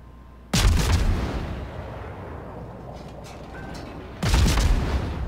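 Ship guns in World of Warships fire in two loud, close broadside blasts at the start and near the end, with a low rumbling boom between them and no voices.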